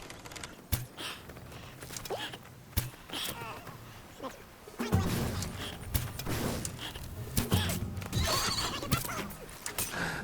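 A horse whinnies in Skyrim, set near roadside ruins outside the Sanctuary, with a loud neigh early on, hoofbeats and combat clatter following amid ongoing game action.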